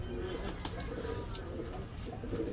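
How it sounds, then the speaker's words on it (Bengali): Mysore pigeons cooing at a crowded pigeon market, a steady low murmur of soft coos mixed with busy background chatter and crowd noise throughout. "এলো অরিজিনাল মহীশূর কবুতর,"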